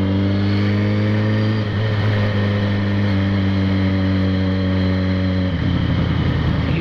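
A Yamaha XJ6 motorcycle sits in neutral while its engine revs loudly and close by, holding a steady high drone with two sharp shifts in pitch as the throttle changes, no voices over it.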